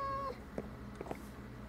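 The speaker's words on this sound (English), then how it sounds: "Hey, kitty cat." A cat in the video game Minecraft gives a single short, clear meow at the start, followed by a few faint soft clicks against a quiet background.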